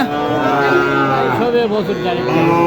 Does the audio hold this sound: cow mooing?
yes